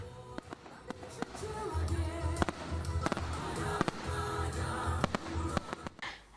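Fireworks at a Russian national day celebration in Crimea, with repeated sharp bangs and crackles popping at irregular intervals over a low rumbling background, moderately distant.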